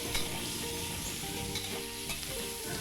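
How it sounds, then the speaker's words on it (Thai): Pork belly and sliced sweet peppers sizzle steadily in a hot pan during a stir-fry, with close frying crackle and occasional clinks of stirring. "เราผัดหมูสุกแล้วนะครับ เราก็นำพริกหยวกหั่นนะครับ ลงไปผัดนะครับ"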